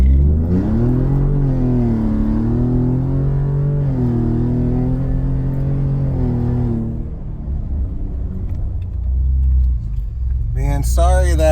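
A 2018 Ford Raptor kicks down and accelerates hard from 0 to 60, its engine rising in pitch through several sweeping surges before easing off, loud and close from inside the cab, ending with a brief voice.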